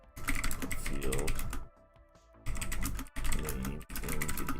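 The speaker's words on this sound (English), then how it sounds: "Start by typing the field" Keystrokes on a computer keyboard as a search query is typed, dense clicking in two bursts with a short pause between, loud and close.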